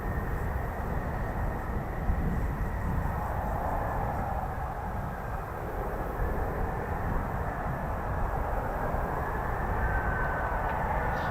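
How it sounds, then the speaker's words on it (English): Two F-35B Lightning stealth fighter jets taxiing at an RAF airbase, heard as a steady, continuous low jet engine roar and whine at a distance, holding at a constant level with no talk. "Two F-35Bs on the move, taxiing now."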